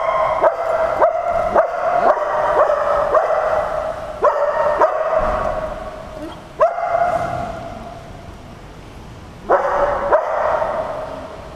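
A dog barks repeatedly on a mantrailing search, sharp barks in bursts with short pauses, close and loud, with a few yips mixed in and no talking.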